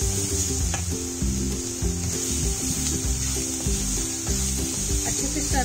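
Fried chickpeas crackle and hiss in a pan while being stirred, with a continuous bright sizzle and scraping. Steady, rhythmic low tones run underneath the whole time.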